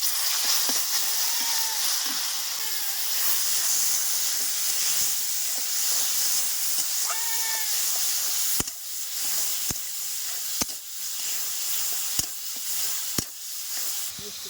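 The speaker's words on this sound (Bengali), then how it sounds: "তেলের উপরে দিয়ে দিচ্ছি গোটা শুকনো লঙ্কা, দিয়ে দিচ্ছি সরষা" A loud, steady hiss of whole dried chillies and mustard seeds frying in hot oil with faint crackles. Several sharp clicks or knocks come through in the second half.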